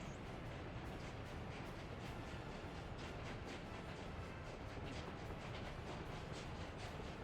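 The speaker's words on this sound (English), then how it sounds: "this train's on the way back" A steam-era train runs on rails in the Workers & Resources: Soviet Republic game, a continuous rumbling clatter of wheels over track, steady and moderately loud with no voices.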